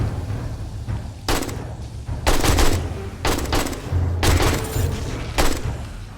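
An AK rifle with a semi-auto mod fires in the survival video game 7 Days to Die: about six sharp, separate shots spaced a second or so apart over a constant low rumble of background noise.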